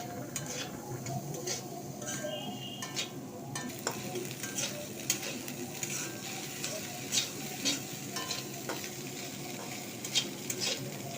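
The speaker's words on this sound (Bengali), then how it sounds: "এরপরে আমি এটা নাড়াচাড়া দিয়ে ভালো করে একটু ভাজা ভাজা করে নিচ্ছি" Small fish-head mash stirred and fried in a pan for a village-style recipe: a steady, close sizzle runs throughout, with scattered light ticks and scrapes of the stirring utensil against the pan.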